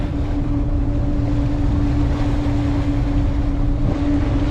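A boat's motor drones steadily at sea off Teriberka, Arctic Kola Peninsula, in winter, with a constant hum, mixed with wind and rushing water noise throughout.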